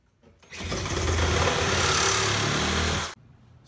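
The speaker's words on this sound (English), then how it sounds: "I'm going to cut it with the Sawzall using a wood or metal blade" A Sawzall reciprocating saw with a wood or metal blade cuts through PVC pipe in one loud, buzzing burst of about two and a half seconds that stops abruptly.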